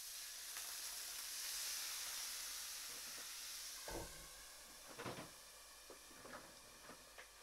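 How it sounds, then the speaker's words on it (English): Water sprinkled into a hot pan where salmon is pan-frying skin-side, under a domed lid, gives a loud, steady steaming hiss that slowly fades, followed by several sharp sizzling crackles and pops, with no talking. "I could add a sprinkle of water, which would steam on the inside, right?"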